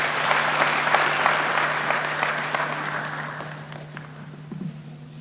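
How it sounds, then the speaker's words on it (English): An audience at a graduation ceremony in The Gambia applauds a teacher joining them on stage, steady crowd clapping that gradually thins and fades toward the end over a constant low hum. "Let's applaud him as he joins us on stage."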